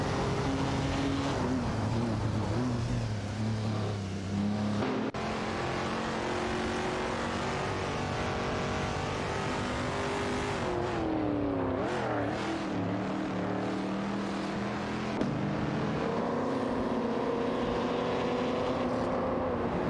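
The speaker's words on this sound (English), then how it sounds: "we watch racing cars, driven by artificial intelligence, in a racing simulator" AI-driven racing cars in a video game racing simulator, several engines whining loudly and continuously with shifting pitch as they accelerate and change gear, no voices.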